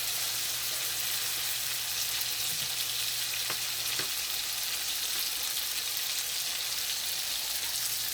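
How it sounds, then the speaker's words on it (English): T-bone steaks fry slowly in butter with garlic, giving a steady, even sizzle that fills the pan without pause, with a couple of faint pops and light scraping near the middle. "And we just letting this here fry up, look just like it's frying,"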